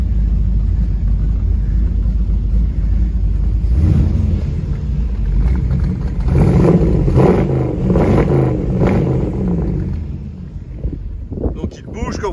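A 1932 Ford roadster hot rod with automatic gearbox: deep low engine rumble idling, then a run of throaty revs rising and falling, close and loud, with someone speaking over it.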